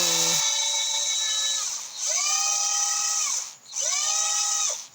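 A high-pitched electric drill motor whines in repeated bursts while spinning a motorcycle cylinder head valve for lapping, spinning up and winding down three times with short pauses between, loud and close.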